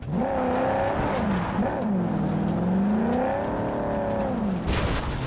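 A car in the video game Cyberpunk 2077 drives on a shortcut with loose, slippery handling, its engine droning steadily and rising and falling in pitch as it revs, loud and continuous with a brief burst of noise near the end.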